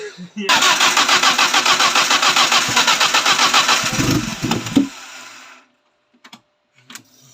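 A turbocharged Peugeot 309 engine runs loud and close with a fast, even pulsing beat for several seconds, then cuts off abruptly, leaving a few faint knocks.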